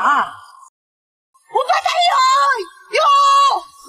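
At a car race, a woman gives a short cry, falls silent, then lets out two long, loud, wavering screams of cheering close by.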